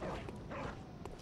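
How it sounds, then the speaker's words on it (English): Dog barks and yips from the video game Bloodborne, a few short quick calls in a cluttered game soundscape. "That's a dog. It was a dog."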